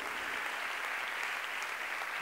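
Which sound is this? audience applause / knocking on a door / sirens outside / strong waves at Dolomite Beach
audience applause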